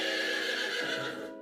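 A mare named Mabel whinnies impatiently at feeding time in an autumn barn, a single loud, close, quavering neigh that fades off at the end.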